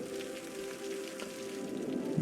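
Rain pattering steadily across a Cities: Skylines city, a soft continuous wash of drops with faint tonal game ambience underneath, moderately quiet and even throughout.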